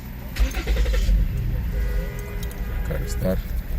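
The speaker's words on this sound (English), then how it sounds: "Car start." A 2008–2013 Ford Edge engine cranks and starts after an ECU replacement and programming, a brief rumble catching and settling into idle nearby, with people talking over it.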